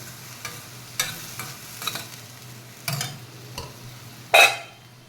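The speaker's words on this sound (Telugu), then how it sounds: "ఇప్పుడు కలుపుకొని ఫ్రైడ్ రైస్ కలుపుకుందాం, రైస్ వేసుకొని కలుపుకుందాం" Vegetable fried rice with spices being stirred in a pan, a quiet background hiss punctuated by a handful of sharp scrapes and clinks, ending in one louder scrape.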